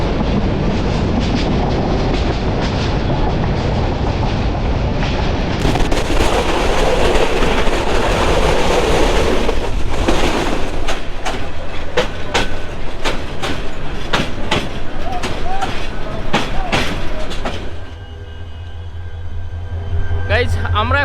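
Jayantika Express passenger train running on the rails between Dhaka and Sylhet, with a loud, steady rumble and clattering wheels close by. Sharp clicks come through, and the noise drops to a lower hum near the end.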